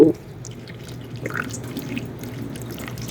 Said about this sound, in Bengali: এটা একটু আমি হাত দিয়ে জাস্ট অল্প পরিমাণে ধুয়ে নিব